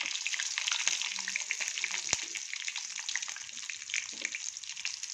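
Mustard seeds, dals, cumin, fenugreek, chilli and curry leaves frying in about two spoons of oil in a pan, giving a steady close sizzle with crackles and pops throughout.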